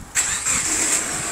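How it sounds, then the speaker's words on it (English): A Subaru Forester 2.0 XT with automatic gearbox fires up on its push button, a quick starter crank catching into a steady, close idle with a high whine over it. "So she starts on the button."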